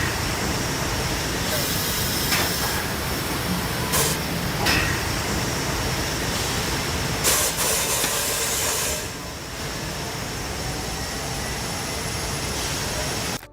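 A sugar factory centrifuge spins with a loud, steady whirring roar, broken by a few sharp hissing bursts. The roar eases slightly partway through and then runs on evenly to the end.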